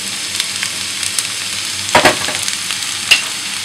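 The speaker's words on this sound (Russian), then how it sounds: "пассеруем и смесь петрушки с морковкой" Chopped parsley and carrot frying in sunflower oil in a heated skillet, a steady close sizzle with occasional louder pops and stirring scrapes.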